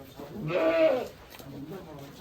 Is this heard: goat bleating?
yes